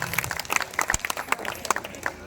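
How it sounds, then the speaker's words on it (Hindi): Audience clapping at a Hindi poetry gathering in Nawada, a scattered crowd of hands beating in irregular, moderately loud bursts close by, with no talk over it. "आप इनके लिए ताली बजाइए महाराज।"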